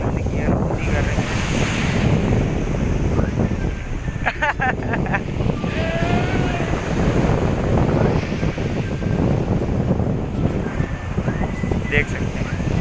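Sea waves wash against the shore near Madhopur village while wind buffets the microphone, a steady loud roar of surf and gusts with faint voices briefly in the background.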